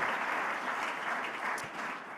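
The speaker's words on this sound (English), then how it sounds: "a big round of applause for Terry Duffy and the entire team at CME" A ballroom audience at the Rolex LPGA Awards gives a sustained round of applause, a dense, even wash of clapping lasting a couple of seconds with no talk over it.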